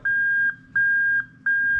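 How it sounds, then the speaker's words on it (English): A loud electronic beep from a Lexus IS200 reverse gear warning, repeating three times in an even rhythm, each tone about half a second with short gaps, close and steady. "you can hear the beep, the usual beep on an IS200 when it goes into reverse gear"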